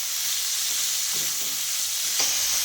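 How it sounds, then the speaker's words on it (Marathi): Chopped spinach sautéing in hot oil for palak pithla gives a steady, close sizzle, with a few soft stirring scrapes of the spoon through the pan. "आपण कट करून घेतलेला पालक आहे तो यामध्ये टाकायचा आणि छान हे तेलामध्ये परतून घ्यायचा"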